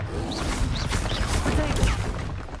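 The Confringo fire spell is cast in the video game Hogwarts Legacy, producing a dense, loud burst of whooshing, crackling game effects with brief swooping tones that fill the whole moment.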